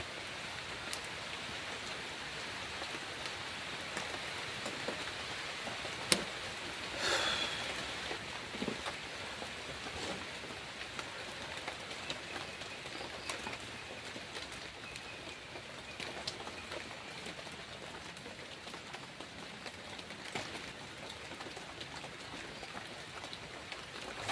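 Steady rain pattering on a camping tent, a soft continuous hiss with scattered faint drips and taps, heard alone without voices.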